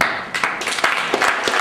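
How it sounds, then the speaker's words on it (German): Audience applause at a panel discussion in Reichersberg, a dense burst of many hands clapping together, loud and close, sustained without pause. "Applaus gibt Ihnen auch gleich."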